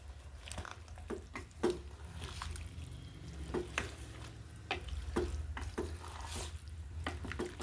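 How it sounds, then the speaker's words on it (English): Bean stew is stirred slowly in a pot, producing faint, soft scrapes and clinks of the spoon at an unhurried, irregular pace over a low background hum. "Then we are going to stir it slowly"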